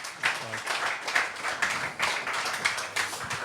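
Applause for a DJ and production act at a master class, a modest room of clapping with uneven, overlapping hand claps at a steady moderate level and some low rumble underneath.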